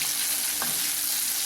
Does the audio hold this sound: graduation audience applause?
no